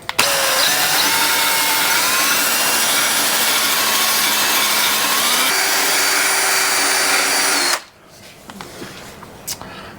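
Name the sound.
rough wire brush scrubbing rust off Yamaha FZ6 fuel tank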